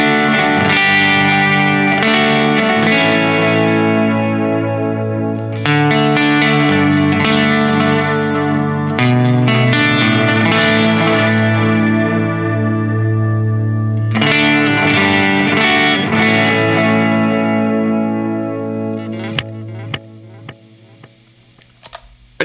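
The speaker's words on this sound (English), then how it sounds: "I got the Capistan D-Tape Echo." Electric guitar played through a Capistan D-Tape Echo pedal, ringing sustained chords and melodic notes with warm tape-style repeats and chorus-like wobble, loud and close, trailing off into sparse decaying echoes near the end with no talking.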